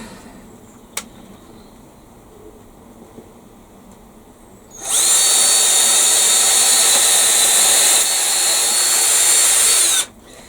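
After a quiet stretch with a small click, a power drill whirs loudly and steadily for about five seconds, then cuts off abruptly.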